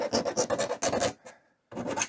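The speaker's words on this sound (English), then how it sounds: "I will just deburr. I've got a couple of little files." A small hand file deburring cut metal tubing while building a three-tap beer kegerator, giving close, quick back-and-forth rasping strokes in two bursts separated by a short pause.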